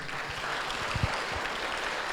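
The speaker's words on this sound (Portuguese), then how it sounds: "Vamos aplaudir Jesus." A church congregation claps together in a dense, steady wash of applause at a Christian service, loud and continuous with no single claps standing out.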